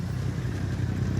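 A motorcycle engine rumbles close by at a roadside police speed check, a dense, steady low throb lasting about a second.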